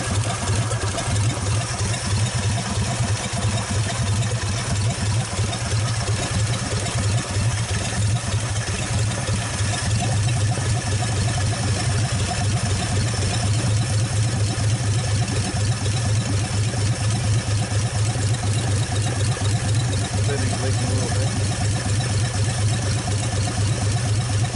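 A 1948 Nash car engine idles at very low speed, a steady loud rumbling throb close up that runs without a break, with no talk over it.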